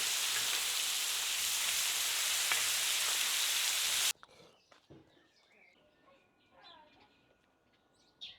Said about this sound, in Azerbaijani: Əti doğradıq və sac içi bişirdik.